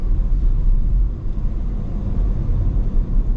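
A Ford Expedition Tremor with an EcoBoost engine accelerating hard, a deep, steady engine rumble inside the cabin that swells and dips slightly over a few seconds, with no talking.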